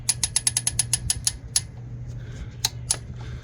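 Rapid run of sharp ratchet clicks as a socket wrench tightens a cylinder head bolt on a 2004 Jaguar XJ8 V8 during head installation, a burst of about ten clicks, then a few isolated clicks, close and clear over a low hum.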